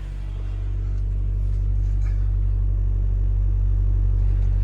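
A 2004 Toyota Celica GT-S idles with its radiator cooling fans running under the air conditioning, giving a steady, loud low rumble with a constant whirring layer and no talk.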